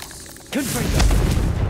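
The Confringo blast spell in Hogwarts Legacy goes off as a single sudden burst, a booming explosion that rolls into a low rumble, loud and close, with a brief voice just before.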